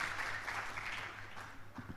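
Applause from an audience at a campus event after a speaker is introduced, a faint, brief patter of clapping that fades toward the end.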